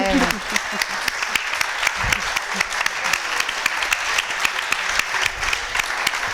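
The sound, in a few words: applause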